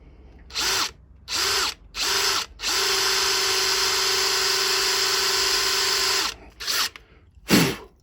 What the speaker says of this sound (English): If I drill any more, I'll end up just snapping the head off.